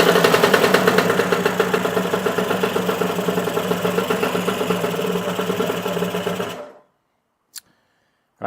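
A Lambretta scooter engine runs steadily after one kick start, a loud, close, rapid rhythmic two-stroke chatter that holds for several seconds, then cuts off abruptly into silence broken by a couple of faint clicks.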